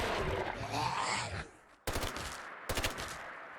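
Gunfire in the video game Fallout 4: a sustained burst of rapid shots, then a pause and two short sharp volleys, loud and close.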